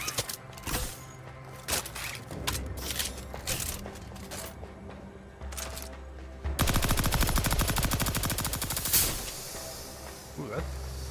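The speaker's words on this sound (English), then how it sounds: "It's this sawed-off air-cooled machine gun." Rapid automatic fire from a sawed-off air-cooled machine gun in the Outer Worlds 2 video game: scattered bursts give way to a dense, loud sustained stream of shots, with game sounds and some voice in between.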